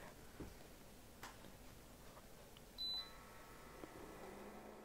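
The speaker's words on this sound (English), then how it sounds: "Why are you beeping?" A kitchen appliance gives a single short electronic beep, clear and brief against a quiet room with faint ticks and hum, nearby and moderately loud.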